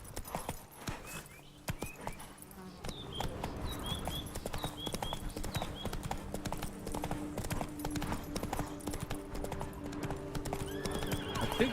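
Roach, a horse in The Witcher 3, gallops with steady clip-clop hoofbeats and occasional whinnies, growing louder and denser over the game's background sounds.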